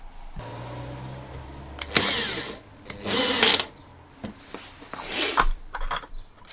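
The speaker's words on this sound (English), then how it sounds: "And that's why you always drill first and countersink." Several short bursts of a power drill whining into wooden cladding for a camper van kitchen, separated by quieter pauses and low background hum.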